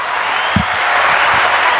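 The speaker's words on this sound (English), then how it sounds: "The crowd's gone nuts." A crowd applauding and cheering at a live podcast taping, a steady dense wash of clapping and noise throughout, with a few low thumps near the middle.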